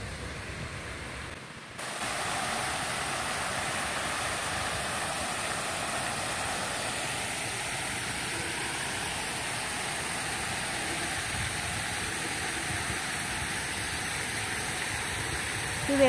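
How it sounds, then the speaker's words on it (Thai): Steady broadband roar of a waterfall at an outdoor park, constant and fairly loud throughout, with a brief quieter stretch at the very start and no voices. "ตอนนี้เราก็มีอยู่ตรงน้ำตกตรงนี้แล้ว"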